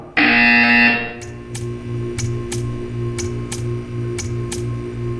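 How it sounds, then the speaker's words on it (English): A loud, harsh buzzer from the video game Portal 2 blares for about a second, then stops, followed by a steady series of sharp clicking ticks. "You will hear a buzzer. When you hear the buzzer, stare at the art."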